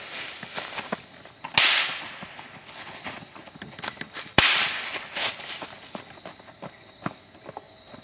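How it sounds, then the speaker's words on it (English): Several sharp gunshots crack out at irregular intervals, two loud ones standing out among smaller bangs and thumps, with no talk over them. "He's shooting at me!"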